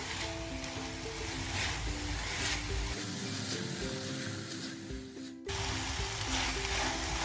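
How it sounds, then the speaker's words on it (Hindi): Chicken in ketchup frying in a pan, a steady close sizzle and crackle that continues evenly throughout, with faint background tones and no talking. "2 मिनट के लिए फिर इसको फ्राई कर लें।"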